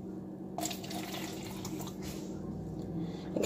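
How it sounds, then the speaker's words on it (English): Water from a pet fish tank trickles and splashes steadily into a cup, a continuous close pouring sound with no talking. "I'm taking the water from their tank and putting it into a cup"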